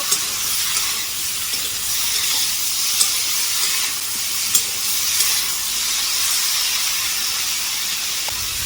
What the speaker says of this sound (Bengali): হলুদ লবণ দিয়ে ভালো করে নাড়াচাড়া করে নেব আর সবজিগুলো একটুখানি ভেজে নেব